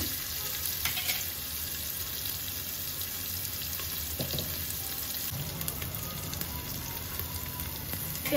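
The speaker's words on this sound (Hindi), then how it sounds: "प्याज देखिए हमारी अच्छे से भून रही है" Two long-sliced onions fry in a pan for kadhi jeera rice. A steady, even sizzle carries on close by, with occasional scrapes and stirring knocks mixed in.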